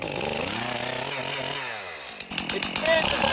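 A small chainsaw engine whines and rises in pitch as it's throttled up, then turns into rough, clattering noise, loud and close throughout.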